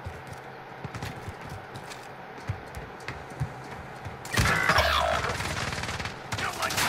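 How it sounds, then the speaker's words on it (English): Gunfire in the Warzone battle royale game: scattered sharp shots, then a loud burst of rapid fire that rattles on for a couple of seconds before trailing off, with a brief resurgence at the end. "I'm being shot from somewhere else."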